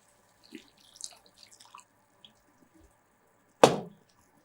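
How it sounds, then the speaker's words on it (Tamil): Water is poured into a pan of simmering black-eyed bean (karamani) masala, a single short, fairly loud splash after a few faint kitchen clinks. "இதோட தேவையான அளவு தண்ணி சேர்த்துக்கலாம்."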